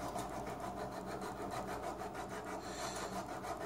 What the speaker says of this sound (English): just filing down this reed